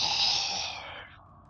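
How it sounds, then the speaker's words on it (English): Crew asphyxiation sound effect from the FTL video game, a breathy, hissing gasp that swells and then fades over about a second and a half. "yeah, that's the sound of asphyxiation"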